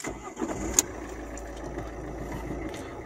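A 2011 Alfa Romeo Giulietta's 1.6 Multijet diesel engine starts with a brief sharp burst, then settles into a steady, fairly loud idle hum.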